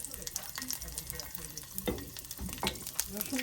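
Two cloves of garlic sizzle in hot oil with a crackling hiss, punctuated by several sharp scrapes and taps of a spatula stirring the pan.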